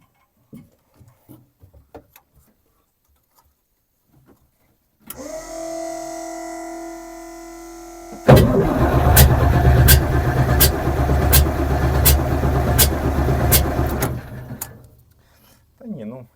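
Quiet talking first, then a 16-litre UTD-20 diesel engine from a BMP turns over with a whirring starter, followed by a louder, rhythmic cranking chug with regular clicking beats, never catching, with no fuel supplied.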